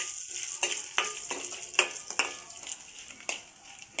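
Dried red chillies, coriander seeds, cumin and garlic dry-roast in a pan for a coriander chutney, giving a steady dry sizzle with repeated scraping strokes of a spoon stirring through them, close and alone without talk.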